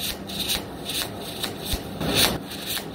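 MIG welding a T-fillet on 3mm plate with argon-CO2 gas and 1mm wire: steady, harsh crackling hiss broken by irregular bursts of popping and sputtering, up close and continuous.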